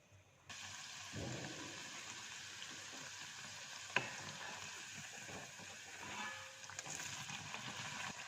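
Jalebi batter poured into hot oil, frying with a steady, close hiss and crackle that holds throughout, broken by one sharp tap partway through.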